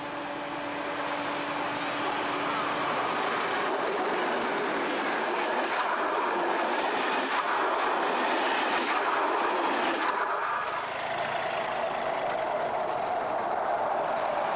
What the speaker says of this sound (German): Der Zug ist auf dem Rückweg, am Haken Wagen in den neuen Regionalbahnfarben Mint-Türkis-Lichtgrau.